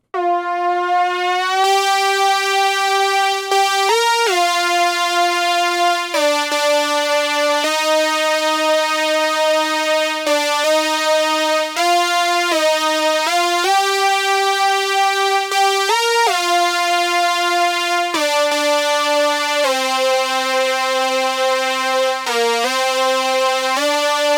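Layered analog synth tones play a sustained melodic line with gliding note changes, rich harmonics and steady loudness throughout, no voices.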